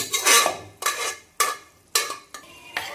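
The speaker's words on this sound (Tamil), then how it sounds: "இப்போ இந்த பருப்பு தண்ணி அதில் ஊற்றிக்குவோம்" A spoon scrapes and clinks against a metal pot as dal water is poured in and stirred for sambar, five distinct strokes, each with a brief wet swish, close by and unhurried.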